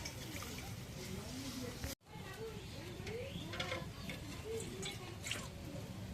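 A little water poured into turmeric-coated fish in oiled pan, giving a soft close splashing and trickling sound that runs on after a brief break, with no talking.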